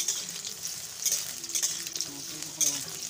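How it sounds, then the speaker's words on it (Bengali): Potatoes fry in a pan of oil for a Bengali okra mustard-poppy seed dish, a steady close sizzle with a few brief scrapes and clinks of a spatula stirring. "আলুগুলো দিয়ে আগে সুন্দর করে ভেজে নেব।"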